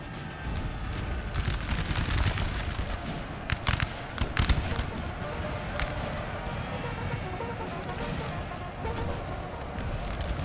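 Cannon canister shot and volleys of musket fire crackle in a Napoleon: Total War battle between Polish and Russian armies, a dense continuous din of distant gunfire with a few sharper louder reports in the middle.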